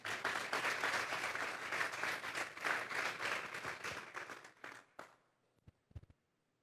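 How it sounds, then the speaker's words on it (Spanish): Church congregation applauding at a sermon in a strong, sustained wave of clapping that thins out and fades near the end, leaving a few scattered final claps. "Denle un fuerte aplauso pues al Señor."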